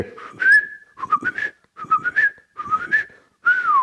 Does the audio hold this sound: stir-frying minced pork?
no